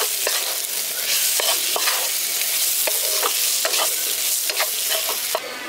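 A fried fish head is stirred with spices and gram flour in a pan, the spatula scraping and clacking in irregular close strokes over a constant loud sizzle of hot oil.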